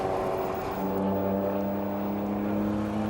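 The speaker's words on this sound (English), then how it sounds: "So there is the safety car going around, Scott Stringfellow driving that." A1GP safety car lapping the Brno circuit, a steady droning engine note held at moderate distance with no gear changes and no talk over it.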